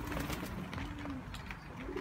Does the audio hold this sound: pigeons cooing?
yes